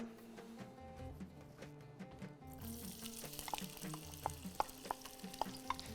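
Onion frying in oil for a Bahraini dish, a soft steady sizzle that grows brighter after it goes into the pan, with a few light stirring clicks, fairly quiet and close.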